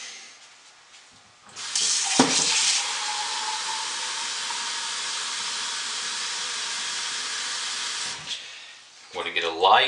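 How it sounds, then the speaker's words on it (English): A soap maker combines lye with a Tussah silk water solution, giving a sustained, loud, steady hiss and rush for about six seconds, with brief knocks at the start and faint handling noises after. "Mix my lye Tussa silk water mixture."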